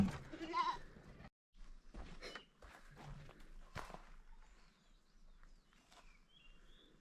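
A young goat bleats near the start, a wavering cry close by on a hillside farm in the sierras, followed by scattered footsteps and rustling outdoors.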